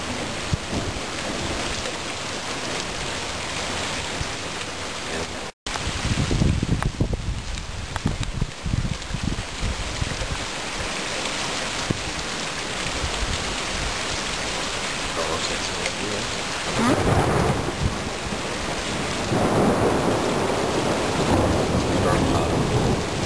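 A thunderstorm rolls over a lake, steady rain hissing throughout while deep thunder rumbles build and fade, with brief quiet voices talking beneath the storm.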